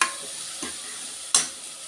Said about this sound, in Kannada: ಸಾಂಬಾರು ಮಸಾಲೆ ಹಾಕಿದ್ಮೇಲೆ ತಿರ್ಕೊಳ್ಳೋಣ.